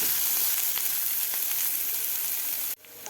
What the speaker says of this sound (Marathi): कांदासुद्धा एक दोन मिनिट आपल्याला परतून घ्यायचा आहे तेलामध्ये